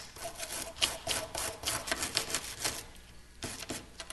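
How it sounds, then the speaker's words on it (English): Close, rhythmic scrubbing and scouring of sooty Svea 123 stove parts, with short rasping strokes in uneven bursts and a brief pause near the end. No voices. "letting them soak and scouring up one part of the stove and just rotating through that way"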